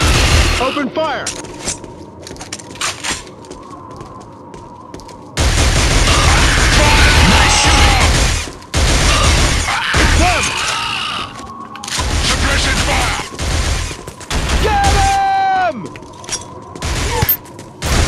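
Combat gunfire in the PS2 video game Killzone: sudden loud volleys of rifle shots and booms in several long bursts separated by quieter gaps, with voices speaking between and over the shooting.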